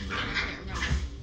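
Brief yips and whimpers from puppies, close and fairly loud, over a continuous background.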